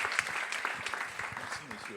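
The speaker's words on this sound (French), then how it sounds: "je propose qu'on les applaudisse" Audience applause for the panelists at a health and AI conference, a steady burst of clapping mixed with voices talking over it.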